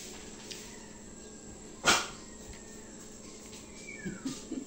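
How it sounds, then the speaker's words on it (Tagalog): Several dogs barking outdoors, one sharp loud bark standing out mid-clip and fainter yelps and barks near the end over steady background noise. "Daming aso."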